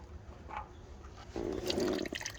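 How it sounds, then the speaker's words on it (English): Used engine oil from a 2016 Kia Optima EX drains into a catch pan, a steady liquid pour that swells midway and runs for under a second before easing off. "drain the rest of the oil right in here"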